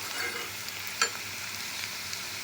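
Okra frying in a hot pan gives a steady, even sizzle with one brief sharp crackle partway through. No one speaks.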